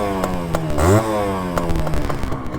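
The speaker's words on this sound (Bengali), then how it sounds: "তো ইঞ্জিনের সাউন্ডটা একবার দেখুন।" Engine of a Honda CDI 100 motorcycle running close by, a steady buzzing idle that briefly swells and rises in pitch with a short throttle blip before settling back.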